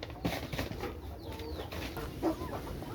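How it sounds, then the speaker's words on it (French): Soft clucking and scattered calls from Kuroiler hens, close by, with a rustling farmyard background and occasional chirps. "On va aller chez les poules maintenant."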